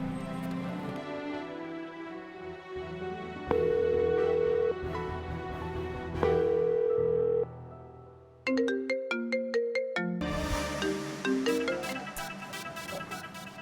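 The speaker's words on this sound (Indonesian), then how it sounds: "Tolong telepon Dirga." A phone ringtone plays while a call is being placed, a bright, steady melodic tone that loops and shifts into quicker chiming patterns, close and loud with no talking over it.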